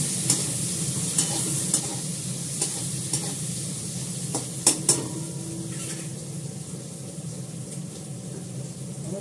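Onion and potato frying in oil with black cumin seeds for a Bengali fish curry, a dense continuous sizzle with sharp spoon clicks and stirring scrapes against the pan.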